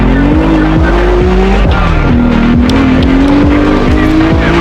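A car drifting with boost in the mobile racing game CarX Street, a loud engine drone that rises and falls with gear shifts and screeching tyres, close and constant throughout.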